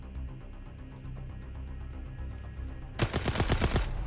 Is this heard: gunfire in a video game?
yes